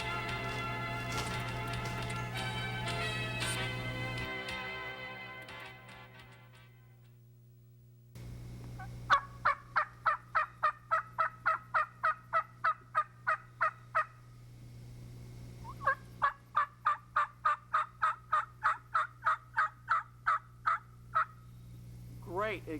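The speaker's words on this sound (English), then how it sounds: "Great examples of hen yelps, guys." Wild turkey hens yelp in long, evenly spaced runs of sharp, rhythmic calls, two series in a row after a brief stretch of other bird-like calling at the start; fairly near, with no speech.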